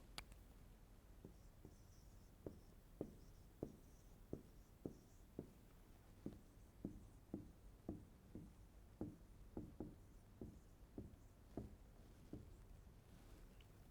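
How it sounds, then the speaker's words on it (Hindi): Steady series of light taps and scratches from chalk or marker writing on a classroom board during a sixth-grade maths lesson, about twenty short strokes in an even rhythm, fairly faint against room noise. "वो पैटर्न मैं यहां पर आपके सामने लिख रही हूं।"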